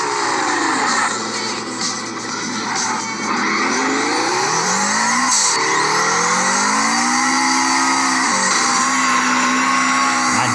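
A rear-wheel-drive Subaru Impreza STI drifting in the CarX Drift Racing game, its engine droning loud and steady as the pitch rises and falls through revs, with tires squealing over it throughout.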